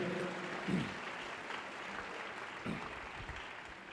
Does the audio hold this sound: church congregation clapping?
yes